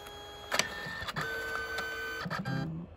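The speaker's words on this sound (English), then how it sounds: "It's doing the red pass. Just four passes." A Canon Selphy photo printer prints its colour passes, a quiet whirring mechanism with a few clicks and clunks as the paper moves, close by and without talk.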